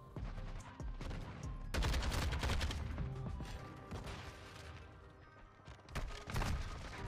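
Gunfire in the Call of Duty video game, bursts of rapid automatic shots with sharp loud cracks, several separate volleys broken by short gaps, close and alone with no talking.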